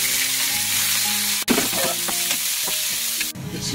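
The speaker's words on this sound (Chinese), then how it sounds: "剩下的油正好把彩椒炒一炒" Bell peppers stir-fried in oil left over from frying pork tenderloin sizzle steadily in a wok, with a few sharp clanks and scrapes of a utensil tossing the pieces.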